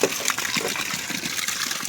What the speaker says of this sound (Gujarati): આ પાણી નીકળે છે